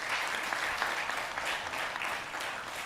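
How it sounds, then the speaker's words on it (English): Audience at a members' meeting gives a steady, sustained round of applause to confirm an elected chair, even clapping that stays level throughout. "could I please have a round of applause to confirm Terry's election as routing security SIC chair?"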